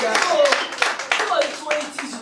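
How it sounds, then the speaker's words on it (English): Several sharp hand claps in a loose, irregular rhythm, close and fairly loud, mixed with a voice and other voices in a family setting. "Clap for us"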